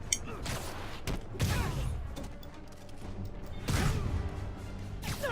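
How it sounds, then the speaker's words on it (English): A big explosion in a Spider-Man video game, with two heavy crashing bursts and rumbling debris, each followed by lingering noise beneath game sounds. "Big explosion."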